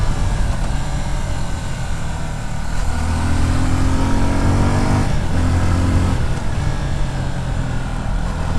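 A 2024 Suzuki Gixxer SF 250 faired sport motorcycle accelerating, its crisp, thumpy exhaust droning loud and steady as the revs climb and then pick up again after a brief dip.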